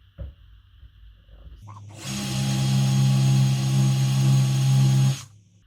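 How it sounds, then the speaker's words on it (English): A power drill with an 8-inch bit bores into a steel beam, whirring steadily for about three seconds after a brief startup, a loud, sustained grinding hum close by, then stops abruptly. "So I've got like a 8-inch drill bit on here."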